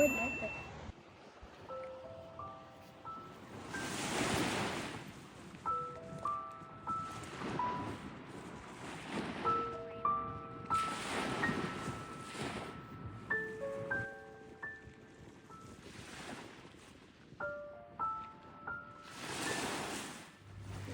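Surf washing onto a beach on a remote Maine island, waves rising and falling in soft repeated surges while people talk intermittently nearby.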